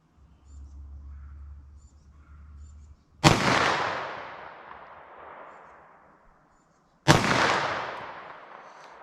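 Two sharp, loud gunshots from a .380 ACP pistol firing Underwood Xtreme Defender +P ammunition, spaced about four seconds apart, each with a long decaying outdoor echo, preceded by a faint low rumble.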